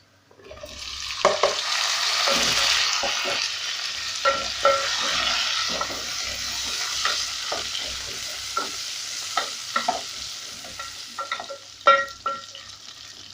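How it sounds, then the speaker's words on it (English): Beef hits frying onions in a pot and sizzles loudly and steadily, with a run of scraping, knocking stirs throughout and no talking. "So at this point I'm going to go in with my beef."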